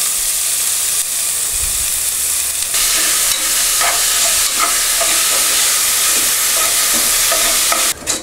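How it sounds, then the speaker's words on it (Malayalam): Five finely chopped onions sautéing in a pan for Kerala chicken biryani, a loud, dense, continuous sizzle with occasional scraping stirs, close and without speech. "5 സവോള നന്നായി ചെറുതായി അരിഞ്ഞതാണിത്. അത് നമുക്കിതിലിട്ട് നന്നായി വഴറ്റിയെടുക്കാം."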